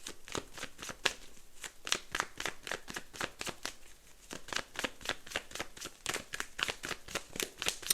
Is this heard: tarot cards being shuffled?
yes